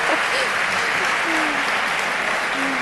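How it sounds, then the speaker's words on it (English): A medical conference audience applauds a panel on lupus management, a steady crowded clatter of hands with brief tonal murmurs of voices beneath. "I'd like you to applaud them."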